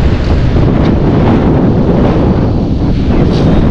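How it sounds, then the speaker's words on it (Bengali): Strong sea wind buffets the microphone on a hotel's top floor, a loud, continuous low roaring rumble with gusty surges and no pauses. "একদম ঝড়ের মতো হাওয়া বইছে এই জায়গাটা।"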